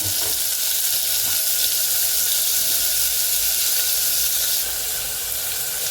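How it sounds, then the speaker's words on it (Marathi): Onion and tomato sizzle in hot oil with cumin, mustard seeds and curry leaves, a loud, close, continuous hiss that eases slightly near the end, with no talking. "आपण कांदा घालत आहोत, सोबत आपण टोमॅटो घालतो"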